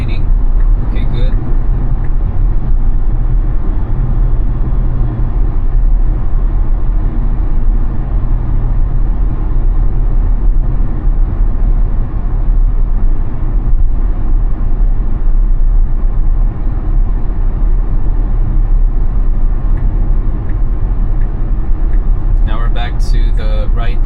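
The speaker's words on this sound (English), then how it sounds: "FSD is accelerating" Inside a Tesla driving on FSD Supervised v13.2.9 along a multi-lane road, steady loud road and tire noise fills the cabin while a voice talks over it.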